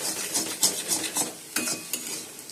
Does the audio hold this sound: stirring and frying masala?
yes